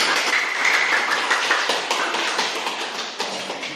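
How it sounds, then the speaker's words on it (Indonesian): Applause for a student group after a classroom discussion, a dense, steady clatter of many hands clapping that fades slightly over about four seconds. "Beri aplaus untuk mereka"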